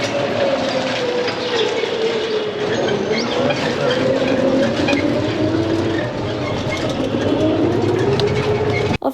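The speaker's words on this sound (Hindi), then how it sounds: "फाइनली हम लोग ट्रेन में चढ़ गए थे और ट्रेन अभी चलने लग भी गई है" A moving passenger train rumbles steadily from inside the carriage, loud and continuous, with a wavering engine tone and faint rail clatter underneath.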